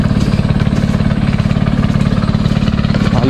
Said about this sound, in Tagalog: Maandar yung makina natin.